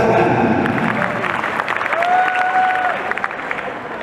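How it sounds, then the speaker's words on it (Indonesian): An audience at a university student orientation event breaks into applause, dense clapping that starts loud and tapers slightly, with a faint voice and a brief tonal sound partway through. "Tepuk tangan."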